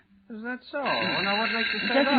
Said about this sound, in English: excuse me, that's my phone